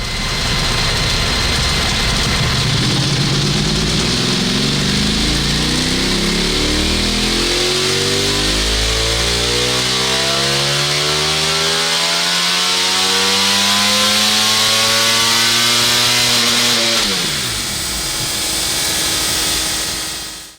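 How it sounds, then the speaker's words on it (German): A Ducati Panigale V4S superbike pulls hard in sixth gear, its loud, close engine note climbing steadily with rising harmonics before briefly easing off near the end, with no talk. "Diese Ducati V4S strebt voran im 6. Gang"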